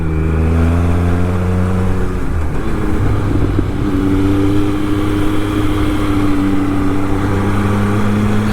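A 2013 Triumph Speed Triple 1050 R motorcycle being ridden, its engine loud and close, roaring under steady throttle, dipping briefly around a gear change and then pulling hard again.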